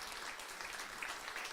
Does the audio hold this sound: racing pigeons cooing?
no